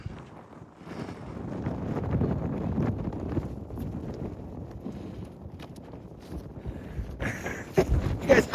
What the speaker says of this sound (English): this wind wants to blow my hat off